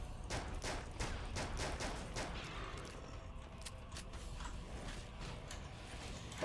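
A shotgun fires in the horror shooter NecrovisioN as a quick cluster of sharp blasts, followed by softer mechanical clicks and rattles trailing off under low game ambience.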